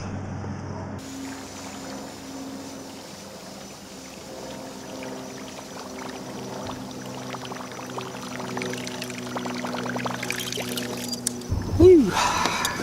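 A D&M Custom Baits Buzz Saw buzz bait is retrieved across the water's surface, giving a steady churning, bubbling wash that grows slightly louder over several seconds over a faint background hum.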